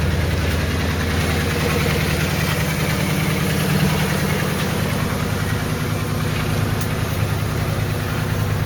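A 1977 Dodge D100 Power Wagon with a warm 318 cubic inch 5.2-litre V8 and original single-outlet exhaust idles steadily with a close, loud, even low rumble and no talking.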